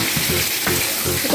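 Potatoes sizzling in a pan of oil, a brief close burst of frying hiss with a few stirring scrapes, no voices.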